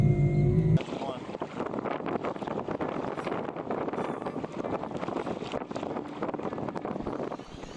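A Bixpy electric outboard motor pushes a Paddle Guy Profish GT fishing paddleboard through a tight turn from a standstill, heard as a steady, continuous rush of wind and water noise that stays at an even level throughout.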